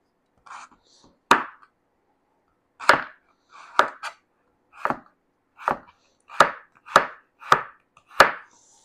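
A knife chops ingredients on a cutting board while a home-made pocket tortilla is prepared, making about a dozen crisp, separate thuds at an uneven pace with short quiet gaps between them.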